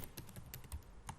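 Quick, soft keystrokes tapping on a computer keyboard in a short, steady run, close by and with no voices.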